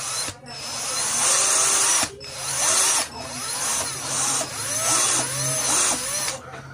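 A 12-volt cordless drill whirs loudly in several bursts of a second or two each, separated by short pauses, with the motor pitch rising and falling as the trigger is squeezed and eased, heard close up.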